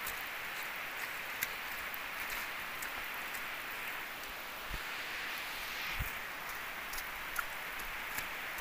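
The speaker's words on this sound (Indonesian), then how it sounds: "Basah, hujan lagi." Steady rain pours down over a muddy truck route in the hills, a dense continuous hiss with occasional louder drops and a few brief knocks, with no talk.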